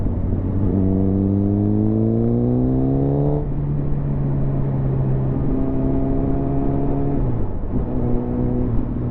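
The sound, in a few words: Suzuki GSXR1000 motorcycle engine while riding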